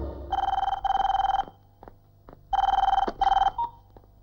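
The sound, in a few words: telephone ringing on outgoing call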